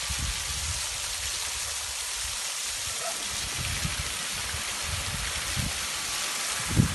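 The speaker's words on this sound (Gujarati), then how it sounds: "એક મોટર ચાલુ થઈ ગઈ છે" Two water pump motors are started on a farm while water gushes in a steady, loud, broadband rush like a stream, continuous throughout with a small knock near the end and no talking.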